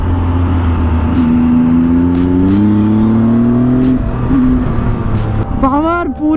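A motorcycle engine revs and rises in pitch while being ridden, loud and close, with a steady drone punctuated by throttle blips and shifting tones, while someone talks over it.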